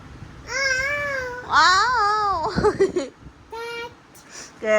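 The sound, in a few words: child imitating cat meow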